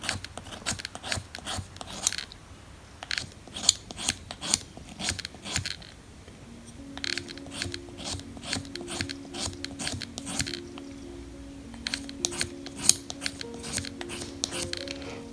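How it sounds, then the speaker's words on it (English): A pencil lead is shaped by hand against a Høvel pencil sharpening plane, giving repeated dry, scratchy rasping strokes in an irregular rhythm, close up. A steady tonal hum joins partway through. "you can actually shape your lead much better, because you are turning the pencil, not a machine"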